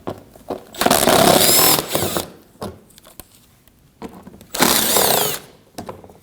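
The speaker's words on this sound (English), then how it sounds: "We'll remove these 2 5mm screws here on the outer edge of the front bumper." A power tool spins out 5mm screws from the lower panel at the outer edge of a Ford Edge front bumper, two loud close whirring bursts about a second long with a quiet gap between them.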